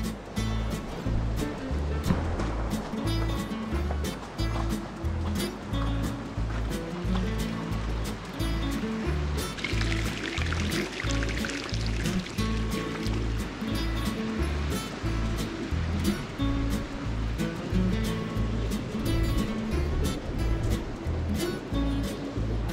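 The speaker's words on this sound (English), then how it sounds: "Howling Hot Springs. Waterfall." Rushing water pours steadily at a wild hot spring waterfall in Taitung, Taiwan, a constant close roar with irregular splashes and rhythmic bumps running under it for the whole stretch.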